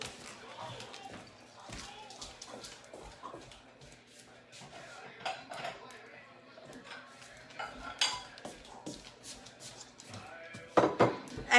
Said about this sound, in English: I'm going to grab my pasta bowl and I'll put some in.